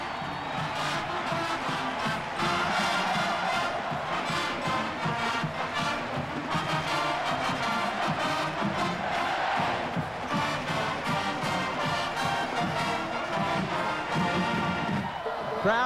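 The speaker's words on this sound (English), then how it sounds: "Crowd is on its feet." A packed football stadium crowd at the 1995 Iron Bowl roars and cheers on its feet, a loud sustained wall of voices with whoops swelling and surging throughout.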